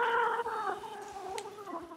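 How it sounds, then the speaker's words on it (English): A balloon slowly releasing its air gives a wavering, squealing whine that bends in pitch, faint and close, rising and falling over two seconds like an animal cry. "That was me releasing a balloon"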